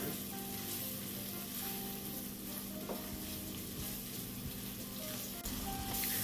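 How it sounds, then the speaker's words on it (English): Vegetables soften as they sauté in a pan before going into salmon cakes, a dense, even sizzle with occasional light stirring scrapes, close up and uninterrupted by talk. "So we're going to saute these and allow them to be nice and soft"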